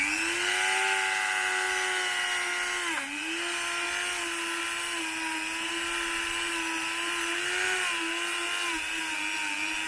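A power tool with a rotary brush whines steadily as it scrubs a 16-inch wheel rim on a Mazda Miata under restoration, a continuous high, close drone that dips briefly once under load.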